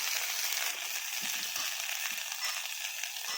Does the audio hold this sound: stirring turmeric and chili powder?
yes